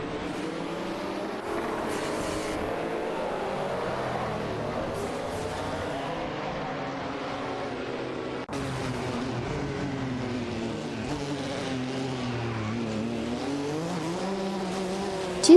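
Race cars in a racing video game roar past with rising and falling engine whines, several overlapping engines sweeping by at steady loud volume with faint tire squeal.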